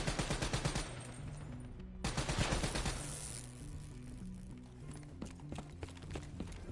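Gunfire in Black Ops 3 on its hardest difficulty, with repeated shots popping through a dense, busy battle mix. Two heavy bursts stand out early, followed by scattered sharper cracks over a low, steady drone.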